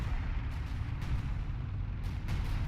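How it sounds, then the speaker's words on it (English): Heavy artillery barrage in the World War II video game Battle for Caen, a dense, continuous low rumble of distant shell impacts with periodic louder bursts, rolling on steadily with no speech. "Some heavy fighting with artillery and stuff going on here."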